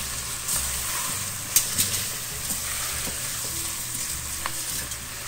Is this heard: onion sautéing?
yes